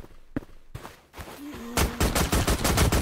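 Automated turrets fire in Call of Duty Zombies Minecraft. A few scattered shots open, then a dense rapid burst of gunfire builds and stays loud to the end.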